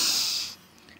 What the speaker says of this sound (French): Alors, on inspire.